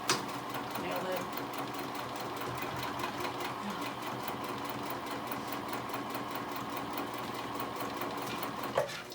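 Sewing machine stitching a simple crossbody bag, a steady rapid mechanical chatter running continuously and loud throughout, with a faint voice beneath it.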